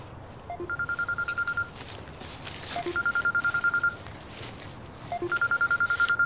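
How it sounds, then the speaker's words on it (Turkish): A mobile phone rings in three repeated bursts of an electronic ringtone, each lasting about a second, over steady low background noise, fairly quiet and near. "Bu mallardan birinin telefonu çalıyor."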